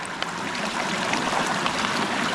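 Water from a mountain stream pours steadily into a filter bladder bag, a continuous close trickling and gurgling rush without breaks.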